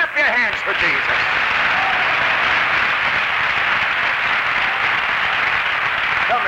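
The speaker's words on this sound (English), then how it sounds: "clap your hands for Jesus" A congregation at a tent revival healing meeting claps their hands for Jesus. The clapping is loud and steady and fills the whole stretch. Voices mix in at the start.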